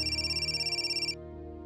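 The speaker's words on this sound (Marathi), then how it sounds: "शिवच्या अम्माचा फोन." A telephone rings at home with an electronic ringtone that warbles in a rapid steady pulse, fairly quiet, then cuts off partway through, leaving only a low hum.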